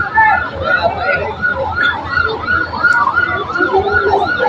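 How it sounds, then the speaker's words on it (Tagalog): Fire truck siren wailing as it arrives at a burning hardware store in San Antonio, Los Baños, Laguna, loud and rising and falling in repeated sweeps, with traffic rumble and faint voices underneath. "ayan na po ang bumbero ng Bae"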